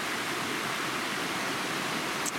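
Stream water rushing continuously nearby on the North Fork Trail in the Cranberry Wilderness, a dense even hiss like water flowing over rocks, unbroken for the whole moment.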